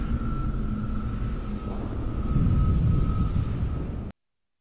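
A Covenant Phantom dropship comes in to land in the video game Halo 3: ODST, a steady low engine drone with a sustained hum that swells slightly before cutting off abruptly.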